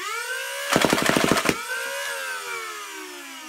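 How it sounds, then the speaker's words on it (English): Modded Nerf Rapidstrike with an Arduino controller firing ten darts in full auto at its highest rate, a quick mechanical rattle of shots over a steady motor whine that winds down afterward. "let's just finish off the 10 rounds and see how it performs"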